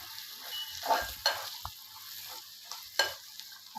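Okra coated in besan masala sizzles softly in a pan, with a few scattered scraping stirs of a spatula over the steady low crackle of frying oil.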